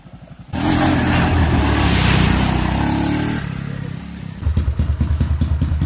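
A loud Honda ATC185S/XR200 engine revs hard for a few seconds, then drops back to a lumpy, pulsing idle, close by with no talking.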